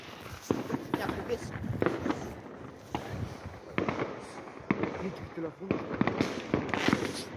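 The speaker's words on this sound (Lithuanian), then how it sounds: "Nelabai girdis, nes fejerverkai šauda." New Year fireworks pop and bang repeatedly at a distance, a steady stream of crackling explosions with people talking underneath.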